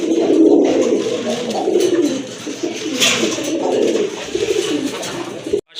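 Pigeons at a pigeon market cooing close by in repeated throaty, rolling calls that overlap steadily, loud and near, with no talk over them.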